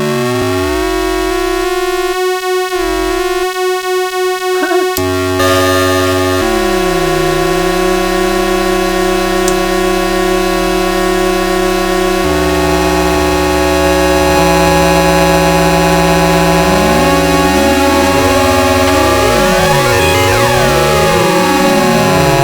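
A modded Sega Master System game console used as a synthesizer plays loud, sustained electronic tones. The tones step between pitches, then slide and warble in sweeping bends near the end, and there is no speech.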